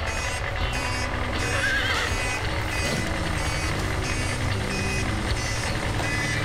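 Truck reversing beeps sound amid horse whinnies and clip-clopping hooves in a cartoon farmyard, a busy, steady mix with no talking.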